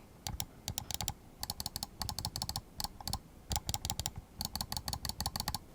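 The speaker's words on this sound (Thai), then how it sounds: "ส่วนเสียงคลิกนะครับเป็นยังไงเดี๋ยวผมจะลองคลิกให้ดู" Rapid, crisp clicking in irregular bursts and short pauses, close and loud, a SIGNO GM-991 Maxxis macro gaming mouse button pressed over and over, with no voices.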